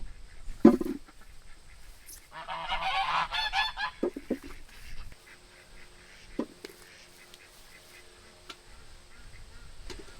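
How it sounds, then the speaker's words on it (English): Four Embden geese kept as guard geese for free-ranging ducks honk in a loud, overlapping burst near the start, then give a few scattered, fainter calls against quiet garden background. "we have these 4 Emden geese, and they act as our guard geese for the ducks."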